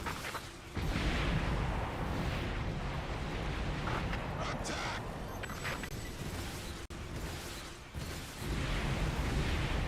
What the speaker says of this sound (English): Commencing airstrikes.